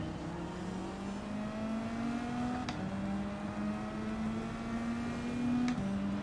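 A Nissan GT-R in Gran Turismo 7 accelerates hard, its engine note climbing steadily through the gears with brief shift breaks, a continuous, moderately loud game engine drone.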